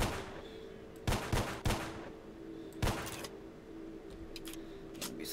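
Gunfire down a hallway in the shooter game Stalker, a series of sharp, echoing shots in uneven bursts, some quick doubles, over a steady humming ambience.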